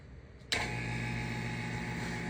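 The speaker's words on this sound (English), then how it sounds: "There's our vacuum going, if you can hear it." A vacuum pump starts abruptly and keeps up a steady mechanical hum with a strong low drone and a constant hiss above it, loud and close, running alone with no talk.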